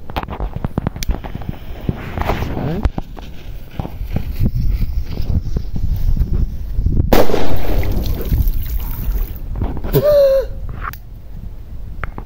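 Several sharp firecracker bangs with splashy, muffled bursts as a 1 g Titano firecracker goes off in water, followed by a louder blast and bubbling, gurgling water near the end, heard close with no talking.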